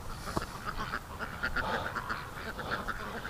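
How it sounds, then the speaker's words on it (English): A hatchling duck quacks repeatedly in quick, uneven bursts, fairly close and moderately quiet, over a soft background hiss during egg hatching. "We got to tag this duck."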